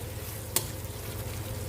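A hotdog fries in a pan with a continuous close sizzle, broken by one sharp utensil click partway through.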